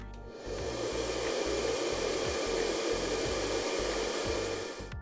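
A hair dryer powered through a transformer setup for a transmission line demonstration, running with a loud, steady whooshing airflow and motor hum that starts after a brief moment and continues unbroken.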